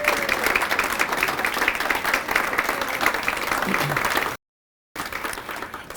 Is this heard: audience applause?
yes